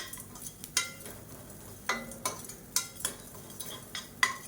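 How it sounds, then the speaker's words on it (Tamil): Salt and coconut are dry-roasted in a pan, with sharp scraping and clinking strokes of a spoon against metal coming at an uneven rhythm over a faint background, close and without speech. "இந்த உப்பையும் சேர்த்து நல்லா வறுத்துக்கலாம்"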